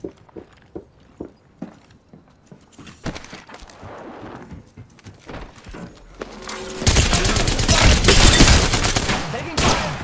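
Apex Legends gunfire starts as sharp, separate shots in quick rhythm, then grows into a dense, loud barrage of rapid fire near the end.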